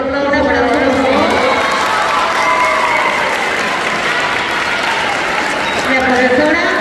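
A school talent-show audience claps loudly and continuously, a dense wash of applause with cheering voices and children shouting mixed in, sustained at close range for the whole stretch.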